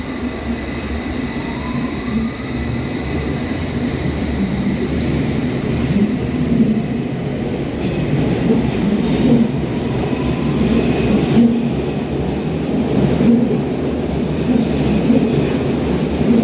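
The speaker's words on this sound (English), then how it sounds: "It's a Circle Line train via The train Victoria. now approaching is a Circle Line service" A London Underground Circle Line train rumbles steadily nearby as it approaches the platform, its low roar and rattling wheels building and holding, with faint high squeals over the top and no voices.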